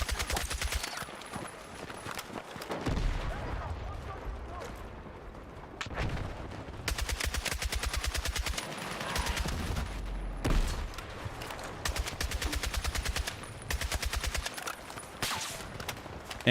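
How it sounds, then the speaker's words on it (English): Gunfire in the Battlefield 6 video game rattles in rapid repeated bursts, loud and close, with short pauses between volleys and a few heavier blasts mixed in. "Whoever's shooting me from over here."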